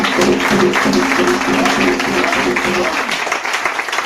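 A church congregation cheers and applauds together, a dense wash of clapping and raised voices that holds steady for several seconds, then thins toward the end.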